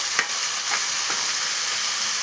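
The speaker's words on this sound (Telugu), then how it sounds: "మొత్తం ఆకు వేసేసుకొని అన్నీ ఒకేసారి వేసుకొని కలుపుకున్నాం." Whole greens sizzling in a hot pan, a steady close hiss of frying overlaid with a few soft scraping stirs spaced through the sound.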